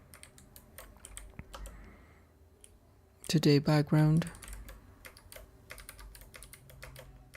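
Clacking keystrokes on a computer keyboard, steady and close, pattering on through most of the stretch while a voice speaks briefly in the middle.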